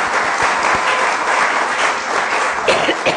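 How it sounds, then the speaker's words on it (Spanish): A lecture-hall audience at a Spanish-language democracy forum breaks into loud, continuous clapping, a close and dense wave of hands that stays strong to the end. "Por favor, un gran aplauso nuevamente."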